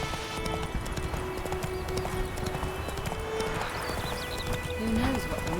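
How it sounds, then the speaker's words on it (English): A horse gallops in The Witcher 3 video game, its steady clip-clop hooves running continuously with a brief whinny near the end, set against an ambient outdoor game soundscape. "Run, Roach."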